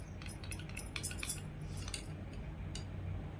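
A spoon scrapes and clinks while stirring a mango cake topping in a kadhai for an eggless mango cake, light metallic taps scattered through the first two seconds over a low steady background.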